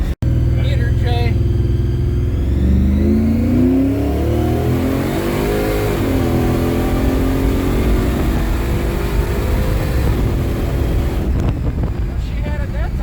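A supercharged International hot rod accelerating hard to around 100 mph, its engine note climbing and shifting through the run, buried in loud buffeting wind noise close to the microphone.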